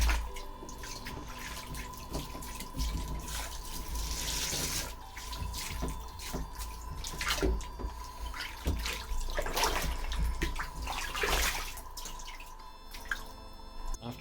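Running water from a tap rinsing a cyanotype print, a steady, fairly quiet splashing flow with drips and trickles throughout, no voices.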